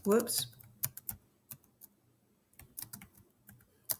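Keys tapped on a computer keyboard while a search is typed, a quick burst of clicks at first, then scattered single keystrokes and short clusters, close and fairly quiet.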